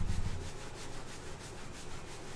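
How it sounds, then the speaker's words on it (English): Palms rub steadily up and down over the lower back during a Tai Chi warm-up, a soft close brushing friction that repeats in a rhythmic swish, alone with no voices. "We will warm up our kidneys by rubbing up and down."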